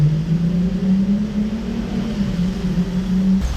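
A Pagani Utopia supercar in a Monaco street, giving a low, steady engine rumble with a faint rising hum as it pulls away, loud and close, with no voices.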